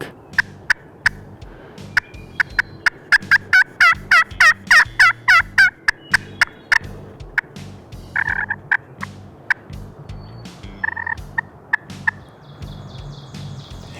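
Rapid, raspy yelping clucks from a slate turkey call, played in bursts of quick strokes, loud and close with brief pauses between series.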